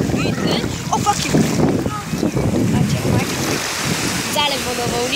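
Sea waves wash and break at Sveti Vlas on the Black Sea coast, a rushing surf mixed with gusty wind buffeting the microphone, with people talking nearby.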